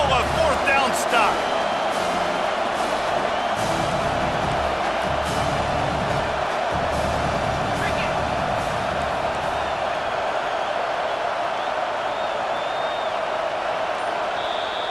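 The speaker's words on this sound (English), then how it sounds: "This crowd busting the decibel meter and trying to will a 4th down stop." A stadium crowd in College Football 25, Iowa at Ohio State, roars continuously at full volume during a 4th down, a dense sustained wall of cheering with a commentator talking over it.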